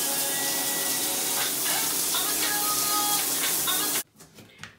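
A shower runs with a steady, loud hiss of spraying water that fills the space for about four seconds before stopping abruptly, with faint tonal music audible under the spray.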